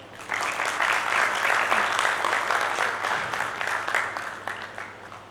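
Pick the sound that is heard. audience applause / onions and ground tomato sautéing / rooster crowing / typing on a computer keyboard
audience applause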